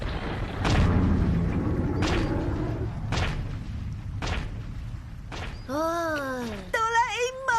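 Cartoon grenade blast in a Cantonese-dubbed Doraemon episode set in the Stone Age: a series of repeated booming thumps, followed by rising and falling whistling tones, with voices speaking over parts of it.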